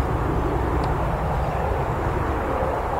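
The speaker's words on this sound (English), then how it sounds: "Planes come in about every 2 minutes." A fixed-wing airplane approaches a small country-town airport, its engine a steady low drone rumbling at moderate distance without pause.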